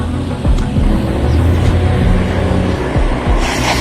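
A van's engine drones loudly and steadily as it drives away, with low rumbling and a few knocking thumps, close and continuous throughout.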